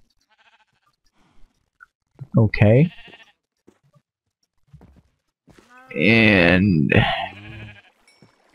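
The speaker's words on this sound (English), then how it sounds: "I was holding wheat out while right next to a ton of cow and sheep." Sheep bleat in the Minecraft video game near a herd of cows and sheep, two short bursts amid quiet stretches, mixed with brief talk.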